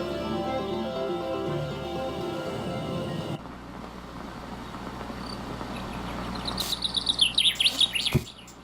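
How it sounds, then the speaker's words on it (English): Loud, rapid bird chirps and tweets over insect-like trilling fill the background of the video game Evan's Remains, swelling into a dense burst of calls near the end after an abrupt ambient shift. "those birds are loud"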